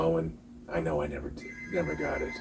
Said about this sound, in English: if you hear the phone ringing in the background